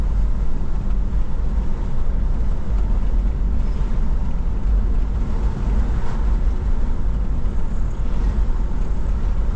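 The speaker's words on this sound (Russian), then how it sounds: "У нас тут какой-то ураган начинается, как обычно." Strong storm wind buffets the microphone beside a Ford Explorer, a loud, continuous low roar and rumble with no talking.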